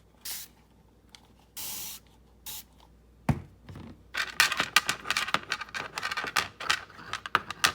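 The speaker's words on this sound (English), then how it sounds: "now I'm going to show you how it comes out in the spray just like the Dawn Powerwash" A spray bottle of homemade dish soap cleaner gives a few short spritzes, then a rapid series of quick sprays with clicking trigger pulls, close and fairly quiet.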